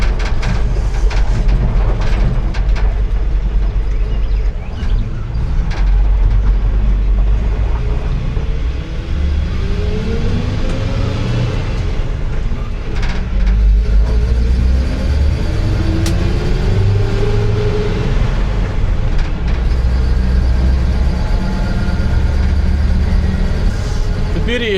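A 40-year-old square-body stick-shift truck drives up a road with a continuous loud engine rumble and road noise, gears audibly shifting, while people inside talk over it.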